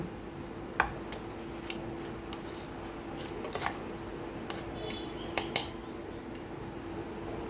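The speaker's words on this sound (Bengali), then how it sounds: "এবার আমি এটাকে একটা বাটির মধ্যে ঢেলে নেব।" Coarsely ground paste is scraped into a bowl with a utensil, a few sharp metallic clinks and scrapes over a faint steady hum, fairly close and quiet.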